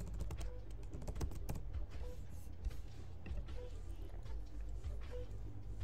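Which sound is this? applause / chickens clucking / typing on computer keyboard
typing on computer keyboard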